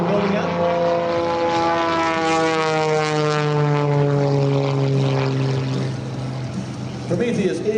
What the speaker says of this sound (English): Prometheus is an amazing aircraft, and hopefully you get a chance to get a close-up look at it.